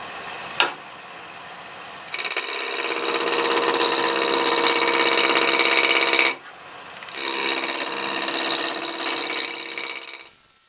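A spindle roughing gouge cuts a wood blank spinning on a lathe at about 1,000 RPM, making a loud, rough, hissing scrape in two long passes with a short pause between them, after a single sharp tap.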